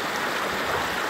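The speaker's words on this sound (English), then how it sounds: "Out here, I'm standing in the middle of the creek." Creek water runs past small, low-flowing falls, a steady close broadband wash with no breaks across the short stretch.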